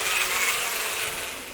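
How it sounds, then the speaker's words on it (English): A dense swarm of bees buzzing in the video game Death Mark, a continuous bright drone that holds steady and fades slightly, with no talk. "But I'll do something about the bees."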